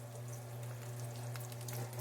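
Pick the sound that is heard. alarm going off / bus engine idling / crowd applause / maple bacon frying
maple bacon frying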